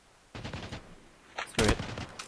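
Rapid bursts of automatic gunfire from a battle royale video game, a short volley then a louder, denser crack of shots, fairly close and alone over a quiet background.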